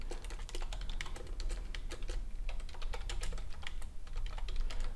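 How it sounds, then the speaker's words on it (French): Rapid, continuous clicking of keystrokes on a computer keyboard, close and steady for several seconds, with no voices. "Je tape avec les guillemets."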